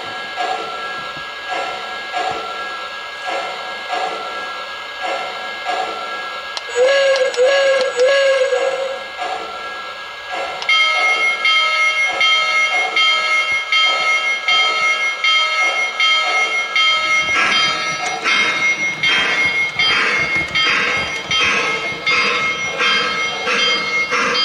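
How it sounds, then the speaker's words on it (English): A Lionel model train pulls out of a siding, humming and clicking along the track, with a sustained electronic whistle and bell tones layered over the running noise. "here we got the train ready to pull out of the siding"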